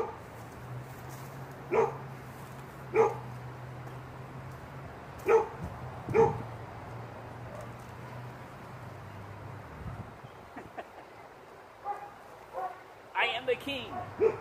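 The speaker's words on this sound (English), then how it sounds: "The neighbor's dogs continue to monitor me and get ready to jump and pounce on me" Neighbor's dogs barking in short separate bursts, several sharp barks spread over the stretch, fairly distant over a steady low hum and wind, with a flurry of quicker barks near the end.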